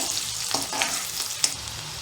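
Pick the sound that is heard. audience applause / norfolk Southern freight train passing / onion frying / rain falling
onion frying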